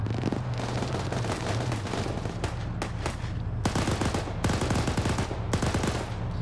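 Machine gun fire in a zombie campaign video game, dense rapid automatic bursts over a low rumbling drone, with short pauses between strings of shots and steady loud volume throughout.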